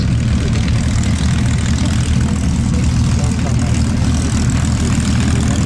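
A warbird propeller aircraft taxiing off the flight line at Sywell, a loud, close, continuous engine roar with a heavy low-end rumble filling the whole stretch, with a voice talking underneath.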